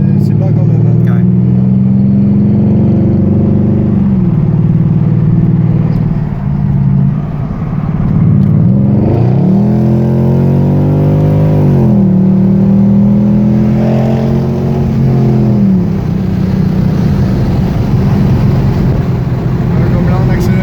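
Mercedes CLS 500 AMG engine heard from inside the car, a loud low hum that swells in pitch in a few repeated acceleration pulls, with people talking over it.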